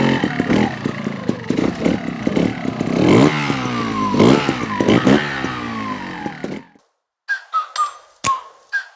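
A Beta Evo 200 trials motorcycle engine revs hard in repeated rising bursts, close and loud, then cuts out abruptly before a few short blips and a sharp metallic tick.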